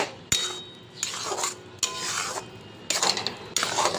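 A spoon scrapes and stirs papaya and dal curry with cumin powder in a pan, in about five distinct rasping strokes with brief pauses between them, close and moderately loud.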